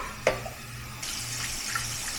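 A kitchen tap runs steadily as ingredients for Vietnamese siu mai are rinsed under it, a close hiss of flowing water with a brief knock near the start.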